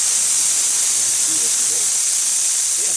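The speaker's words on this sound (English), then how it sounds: "mainly the part that we're looking at is the steam." Steady, bright hiss from the steam wand of a serviced La Marzocco Linea Micra espresso machine, continuous and even for the whole stretch, with faint low voices barely audible underneath.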